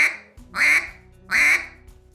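Two quacks from a duck call, each clipped off sharply as if by a T or K stop, close and loud with a short gap between them.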